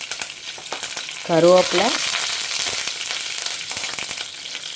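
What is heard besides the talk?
mustard seeds and fenugreek frying in oil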